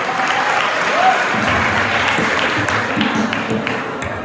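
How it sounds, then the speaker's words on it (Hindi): Loud, sustained applause from a school audience at a farewell party, steady clapping filling the hall for several seconds without a break. "तो जोरदार तालियों से स्वागत करिए।"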